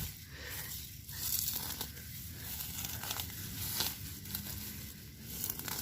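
Grass growing into a flower bed being ripped out by hand, a close, steady crackling and tearing rustle that lasts throughout with small surges.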